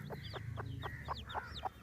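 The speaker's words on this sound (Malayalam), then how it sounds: "ഇത്രയും തോനെ കുഞ്ഞുങ്ങളെ ഉള്ളിൽ അമർത്തി കിടക്കാൻ കേട്ടോ അമ്മ കോഴി" A brooding mother hen clucks in a steady series of short, soft calls, about seven evenly spaced, close by with faint peeping in the background and no voices.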